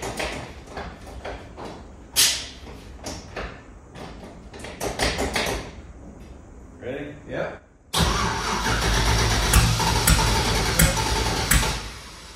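A 1968 Mercury Cougar with an LS engine swap cranks on its original key starter, a loud steady grinding roar that kicks in suddenly and runs several seconds without firing, after a stretch of clattery handling noises and muffled talk.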